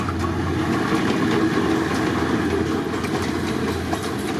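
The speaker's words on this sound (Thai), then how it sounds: "ขึ้นเนินขึ้นเนินขึ้นสะพานดำครับ ขบวน 208 โดยคุณปู่ GEK ครับ" GEK 4031, an old diesel locomotive, hauls train 208 from Nakhon Sawan up a grade onto a black steel bridge. The engine rumbles steadily under continuous rolling wheel and rail clatter throughout, and no one speaks.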